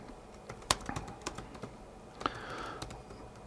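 Keystrokes on a computer keyboard while a short program function is entered, heard as sparse, scattered clicks and taps at moderate distance, with no talking.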